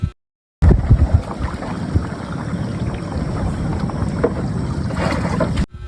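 A motorboat travels through flood water with a steady droning engine and a rushing, splashing wash, heavy wind buffeting the microphone, loud and close after a brief silence at the start.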